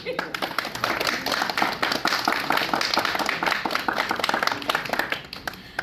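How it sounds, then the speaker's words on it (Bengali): A serial's cast and crew break into dense, sustained applause at a 500th-episode celebration, with many hands clapping close together and voices heard through the clapping. "আপনাদের সবার আগে একটা জোরে হাততালি"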